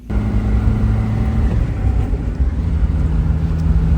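Mazda Miata on a test drive after head gasket work, the engine a steady low drone from inside the car with a held tone that shifts midway, wind noise under it and no talk.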